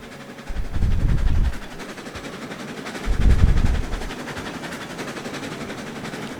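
The Buff steam locomotive in the game Railroads Online rumbles past in two heavy surges of chuffing and rolling noise over a constant wintry, windy background.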